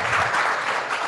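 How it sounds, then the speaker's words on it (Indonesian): Audience applause for a guest speaker at a public lecture at a polytechnic in Semarang, a short loud burst of many hands clapping together, close and dense from start to end. "Kita beri tepuk tangan semuanya untuk Pak Budi."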